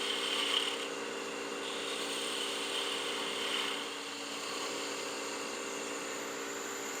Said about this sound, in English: we can use that spindle gouge to get back into that cove